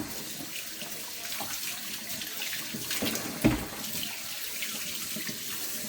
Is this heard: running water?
yes